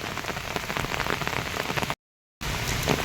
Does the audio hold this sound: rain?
yes